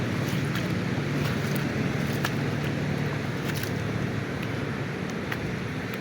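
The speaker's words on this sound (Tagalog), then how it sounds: "mababa na yung alon niya." Low ocean waves wash steadily onto the beach at Aniao Islet, a rock-formation shore, under a constant rush of wind buffeting the microphone, with no voices.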